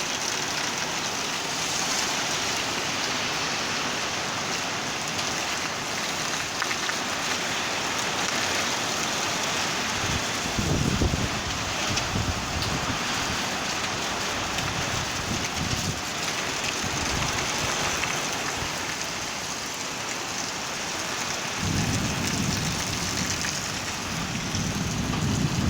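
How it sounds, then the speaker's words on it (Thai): Steady rain pours down during a storm, a continuous close hiss with gusts of wind and low rumbles of thunder rolling in around the middle and again near the end. "บ้านเราฝนมาแล้วเย้"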